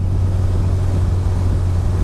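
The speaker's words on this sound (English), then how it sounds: "This little car is powered by a Toyota engine. It's the 20-valve 4H engine." A Striker 240S with a Toyota 20-valve 4H engine, Garrett supercharger and four-speed Type E gearbox drones steadily with a loud, low, even engine hum and no talk.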